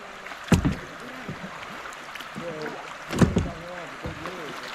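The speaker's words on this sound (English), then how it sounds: "we're coming up on the next rapid. It's got some noise to it." Kayak floating down Antietam Creek toward noisy rapids, with low water rush, paddle splashes and a couple of knocks under quiet background talk.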